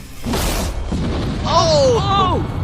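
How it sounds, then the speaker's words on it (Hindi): In Minecraft, a creeper explosion blows up a whole village with one loud, muffled boom. It is followed by rising and falling whistling tones over a dense, rumbling background. "आगे हम एक पूरे के पूरे गांव को एक क्रीपर धमाके से उड़ाने वाले हैं"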